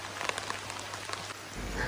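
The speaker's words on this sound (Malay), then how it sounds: "pada ketika itu hujan pula turun" Rain falling outdoors beside a stream near farmland, a steady hiss with scattered individual drops pattering on surfaces, and a louder low rumble swelling at the end.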